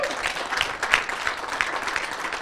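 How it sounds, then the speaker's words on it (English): Steady applause from a live audience honoring a student poker champion at a UK poker tour event, dense clapping sustained throughout with no voices. "Round of applause,"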